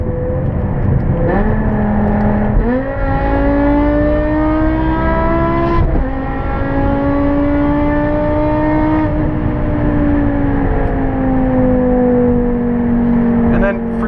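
A BMW E60 M5 engine revs up and holds a deep, steady note, its pitch rising in several stepped climbs and easing between them, loud and close throughout, with a crackling burble underneath.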